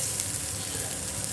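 Chana dal, urad dal, shallots and garlic frying in ghee for brahmi leaves chutney give a steady, close, continuous sizzle with no talking.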